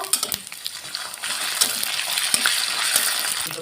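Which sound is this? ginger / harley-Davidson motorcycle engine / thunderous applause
ginger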